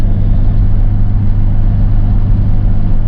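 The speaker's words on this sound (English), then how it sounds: "when the truck idles, it sounds more like a choo-choo" A pickup truck engine idles with a steady, deep rumble that holds at an even level throughout, close by and with no talking.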